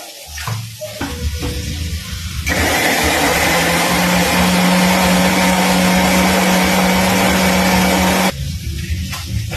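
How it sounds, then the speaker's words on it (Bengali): An electric mixer grinder churning a spice paste for a country chicken curry with chui jhal, a loud steady whirring drone that starts abruptly after a few kitchen clatters and cuts off sharply about six seconds later. "এইটা আগে মিক্সিতে পেস্ট করে নিচ্ছি।"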